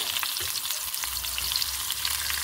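Onions and garlic fry steadily in hot oil for a dal rasam tempering, a continuous close sizzle with faint stirring scrapes and no voices.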